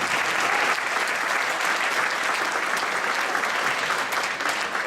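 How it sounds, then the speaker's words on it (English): A school concert audience applauds the 7th and 8th grade concert bands, dense continuous clapping at a steady level throughout. "how about one more round of applause for our 7th and 8th grade concert bands over there in the corner"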